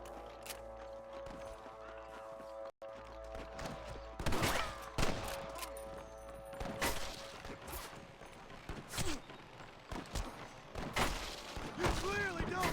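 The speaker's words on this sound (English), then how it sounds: "I can hear more gunshots." Repeated gunshots fire in irregular bursts throughout Red Dead Redemption gameplay, some loud and close, mixed with clattering effects and voices over a steady game soundtrack.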